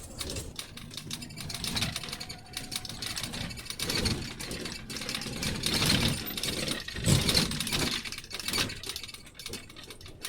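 A training vehicle's engine runs through clutch and throttle changes during gear shifts, a rough mid-range rumble that rises and falls in waves with occasional mechanical clunks, fairly close.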